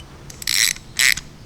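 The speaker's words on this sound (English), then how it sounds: "So our new tie rod end does come with a new grease Zerk right here, and it's going to be an 8mm. So we're just going to install that right quick" A ratchet tightens a new 8mm grease Zerk fitting into a tie rod end for a Jeep, two short bursts of rapid clicking, close and crisp, with no talking.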